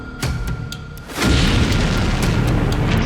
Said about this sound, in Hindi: इसके बाद यह टैंक चलता रहा और फिर ऐसा धमाका।